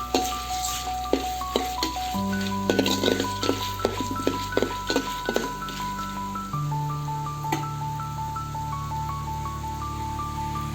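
Peanuts frying in moderately hot oil in a pan while preparing a masala dish, with a steady sizzle, stirring clinks and bright pinging tones of background music.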